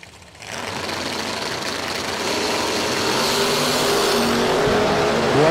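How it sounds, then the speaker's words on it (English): Drag racing cars, a Roadster and a Nova, sit at the starting line of a $100K event, their engines swelling into a loud, steady roar that builds over several seconds with no talk. "As Chase Taylor and Shannon Bledsoe come to the starting line right now"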